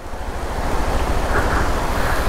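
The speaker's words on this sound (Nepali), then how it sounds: "यहाँ चाहिँ माथि पानी झरिरहन्छ क्या यसरी हो बिचमा रोडमै" Water from Kanchenjunga Falls pours down onto the road in a heavy, unbroken rush, a loud steady roar that fills the whole moment.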